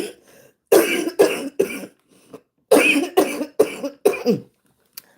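A woman coughs in a series of sharp, close bursts, two quick ones, a pause, then a longer run of four or five, ending with a faint final cough.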